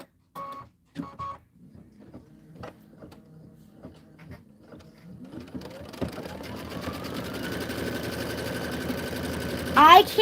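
A sewing machine stitches the borders of an autumn quilt, its motor rising from a quiet start into a steady, continuous whir, with a few scattered clicks and taps before it begins.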